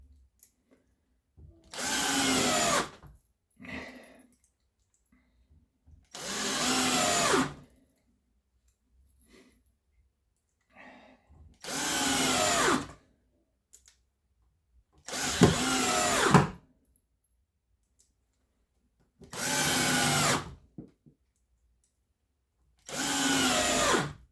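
A nine-year-old cordless drill driver drives screws in six separate loud bursts, each about a second long and close by, with short quiet pauses between them.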